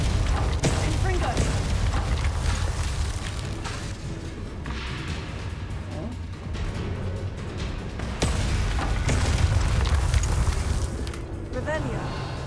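Confringo fire-spell explosions in the video game Hogwarts Legacy land as a rolling series of deep booming blasts and crackling bursts, loud and dense throughout, with voices talking over them.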